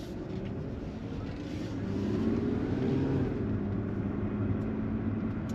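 A Y2K-era car with a V6 engine drives along, its engine hum swelling under acceleration and easing as gears shift smoothly, a steady low drone heard from inside the cabin without talking.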